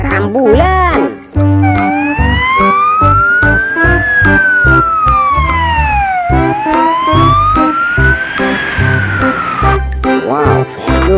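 A toy ambulance siren wails in long rising and falling sweeps, loud and close, with brief voice-like bursts at the start and end.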